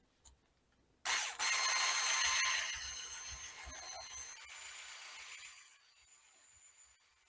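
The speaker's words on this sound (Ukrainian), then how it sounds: "з цукром буду збивати на повільних обертах міксера до збільшення в об'ємі та білої піни" Electric mixer beating butter and sugar at low speed for chocolate almond cookies. It cuts in sharply after a second of quiet and becomes a loud, steady whirring drone that eases slightly in level toward the end.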